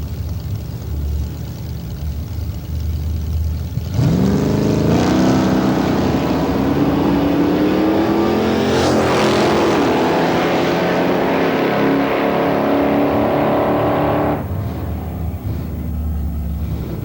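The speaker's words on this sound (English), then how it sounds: "Mr. Cyril Forchuk from Vauxhall, Alberta, 1971 Cuda with 440 cubic inch big block here" A 1971 Chevelle 454 and a 1971 Cuda with a 440 big block launch at a drag strip, engines roaring loudly and climbing through gears for about ten seconds before fading to a distant rumble.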